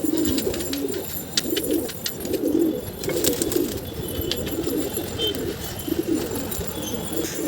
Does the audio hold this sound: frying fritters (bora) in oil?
no